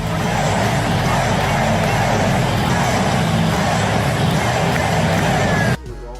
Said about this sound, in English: loyal Kings fans took each and every opportunity to cheer for their home team